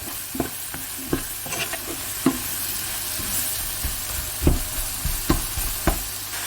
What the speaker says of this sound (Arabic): نحط له شويه تاع الملح وفلفل اسود، نبقى نقلب فيهم حتى يهبطوا